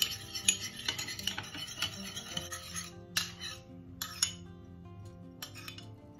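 Caprese salad with tomatoes, spices, olive oil and balsamic being stirred, close wet squelching and rubbing with a few light clinks of a utensil against the bowl, quiet, no talk.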